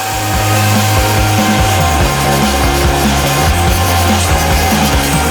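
A chef's knife blade being sanded with 60 grit abrasive on a power tool, a loud steady grinding whine with rhythmic repeated passes across the metal, continuous and close with no talk.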